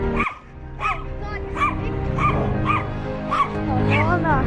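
A dog in an alley gives repeated yips and whimpering barks, fairly close, spaced roughly every half second over steady background noise, with people talking nearby.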